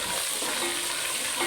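Onions and ginger-garlic paste frying in oil in a pan for a cluster bean sabzi, a dense, even sizzle held close and steady for the whole short stretch, with no talking over it.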